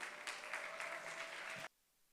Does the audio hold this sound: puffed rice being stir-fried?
no